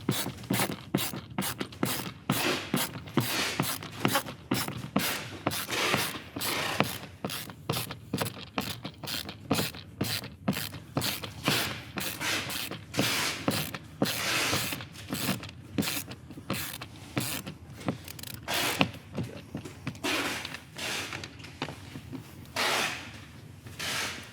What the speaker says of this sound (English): that's the benefit of a ratchet screwdriver too, folks.